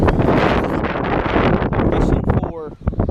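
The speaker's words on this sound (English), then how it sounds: "It is ridiculously windy out here right now, like crazy windy." Strong wind gusts buffet the microphone outdoors while fishing for flounder and croaker from the water, giving a loud, constant roaring rumble with a brief lull near the end, and a person talks over it.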